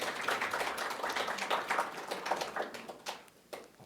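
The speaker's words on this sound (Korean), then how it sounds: "우리 박수로 환영합시다." A church congregation applauding to welcome a couple during a service: a short burst of moderately loud clapping from a group, thinning out into a few scattered claps by the end.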